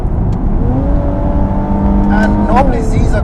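A 2019 Nissan 370Z Nismo revs hard with rising engine tones toward 6,000 RPM, then a gear change lets the pitch drop and climb again, loud and close inside the car.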